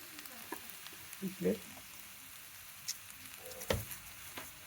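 Diced ash gourd fries in ghee for halwa with a soft, faint sizzle and a few scattered stirring taps, while a voice briefly speaks.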